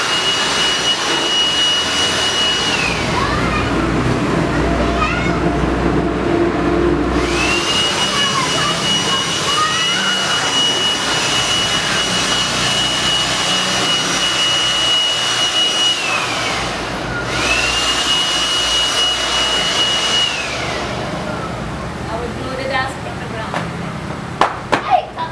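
Cordless Makita DUB182Z 18V blower blowing dust, a loud steady whooshing roar that runs in long bursts, dropping away briefly between them, with a person talking over it.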